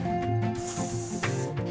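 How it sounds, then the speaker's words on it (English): Coolant, lubricant and disinfectant spray hissing steadily onto horse clipper blades, a close continuous aerosol jet lasting the whole moment with no talking. "to cool your blades and to maintain their sharpness, always spray them"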